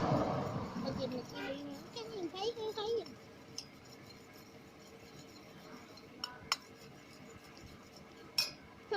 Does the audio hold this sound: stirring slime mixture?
yes